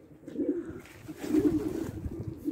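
Soft, low cooing of pigeons, a few murmuring calls rising and falling, fairly close but quiet, with no one speaking.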